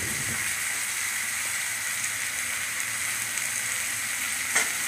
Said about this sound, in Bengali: দিয়ে ভালো করে মশলাটা কষিয়ে নিলাম।